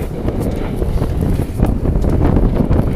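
Strong, steady wind buffeting the microphone during the 50th Barcolana sailing regatta, a constant low rumble with gusty surges throughout, no voices.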